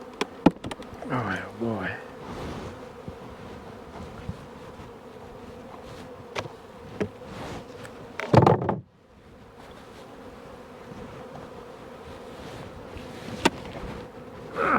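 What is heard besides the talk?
bees buzzing under a box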